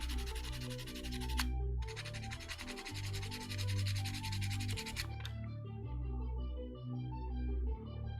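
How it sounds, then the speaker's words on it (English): A sculpted waist part being prepped for a silicone mold is sanded by hand in two long, steady rasping bursts, over a continuous tonal background that carries on after the sanding stops. "This probably needs sanded down more."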